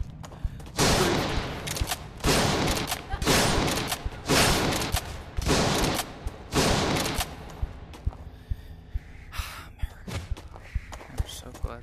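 Shotgun blasts in the VR game Blade and Sorcery: Nomad, about six loud, heavy bursts in rapid succession, each ringing out for a moment, followed by scattered faint clicks and handling noises.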